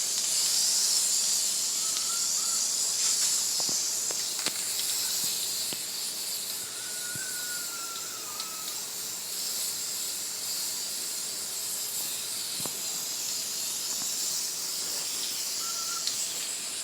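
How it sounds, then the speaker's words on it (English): An aerosol spray can applies coating onto the rusty bed of a Ford Ranger pickup, giving a steady close hiss that runs almost without pause, with faint squeaks over it. "Now let's see if it sprays any better."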